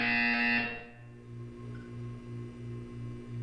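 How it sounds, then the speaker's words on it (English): A low, pulsing buzzer tone from the video game Portal 2 repeats steadily in a series of short bursts at a moderate level after a brief louder electronic tone. "When you hear the buzzer, look up at the ceiling."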